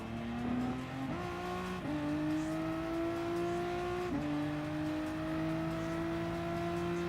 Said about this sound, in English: The chunkiness of the sound as you go up the gears while pushing this engine into the high revs.